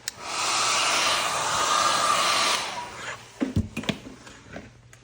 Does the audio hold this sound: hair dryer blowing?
yes